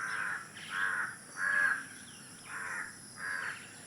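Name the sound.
crow cawing in village morning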